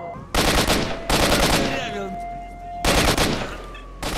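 Automatic gunfire in the video game STALKER rings out in three loud, rapid bursts of shots. A voice talks between the bursts over the game's background hum.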